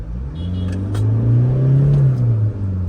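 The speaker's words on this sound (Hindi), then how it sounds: "It revs like mad." A Toyota Fortuner Legender SUV revs hard while accelerating, a loud, close engine roar whose pitch climbs smoothly and then falls away over about three seconds, with no talking.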